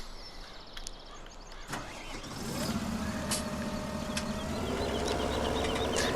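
A tractor engine in Farming Simulator 17 starts as a faint idle, then swells into a steady, louder droning hum with a rising tone, heard alone without talk.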